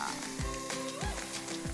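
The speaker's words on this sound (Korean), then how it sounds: "프라이팬에 볶아줍니다." Steady crackling sizzle of mealworms being stir-fried in a hot pan until crisp, with a few dull scraping thumps as they're moved around.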